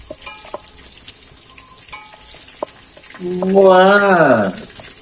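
Food sizzles quietly in a pan with a few stirring clicks, then a voice speaks loudly over the frying near the end.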